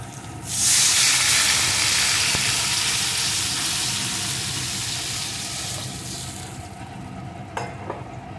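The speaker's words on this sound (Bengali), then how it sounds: "এখন এর ভিতরে দিয়ে দেবো আমি পরিমাণ মতো উষ্ণ গরম জল" Warm water poured into a pan of red-fried potatoes for a Bengali bitter gourd fish curry, bursting into a loud steady sizzle that slowly fades, with faint stirring clicks near the end.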